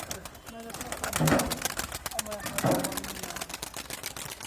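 Pigeons coo and flutter close by, with two louder bursts of wingbeats and calls, while people talk excitedly over them.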